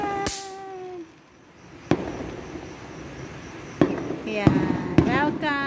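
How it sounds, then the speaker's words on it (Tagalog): Nighttime opening fireworks at a festival in Lucena City, Quezon Province: a string of sharp distant bangs, some with whistling streaks, crackling more densely toward the end while a voice is heard nearby. "Nakita niyo yung fireworks."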